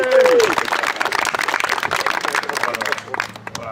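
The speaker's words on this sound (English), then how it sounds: "Let's give him a round of applause." Live audience applauding and cheering a 10-year anniversary, a brief rush of clapping and crowd noise over lively voices and babble, opening with a short bright whistle-like tone.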